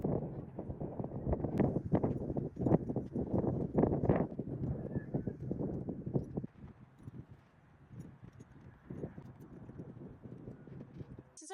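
Horse hooves clip-clop close by in a quick, uneven rhythm of dull thuds that fades to softer steps and rustling near the end, with wind noise and a faint voice.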